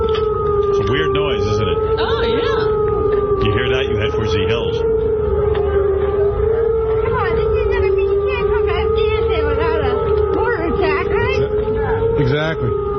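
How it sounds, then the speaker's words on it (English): Mortar attack warning siren in Afghanistan, a steady wailing tone held throughout at moderate distance, with people talking over it. "all of a sudden this siren comes on, and it means get to a bunker"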